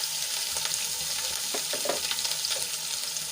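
Finely crushed ginger fries in hot oil with chillies and curry leaves for a potato dish, a bright steady sizzle with quick clustered crackles and soft stirring scrapes.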